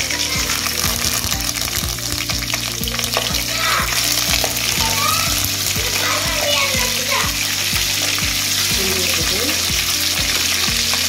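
Green chilies and curry leaves crackle and sizzle in hot oil for a prawn thokku, a steady loud frying hiss with stirring clatter, while a voice chatters faintly in the background.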